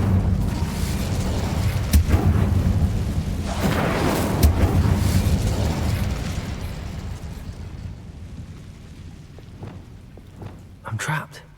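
A fire spell cast in the Hogwarts Legacy video game during a dungeon run bursts out as a loud, dense whoosh with booming crackle, surging twice before fading into quieter rumble, with a short sharp pop near the end.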